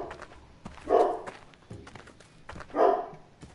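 Dogs bark in The Walking Dead video game, two separate low woofs about two seconds apart, moderately near, over quiet footsteps and ambient shuffling.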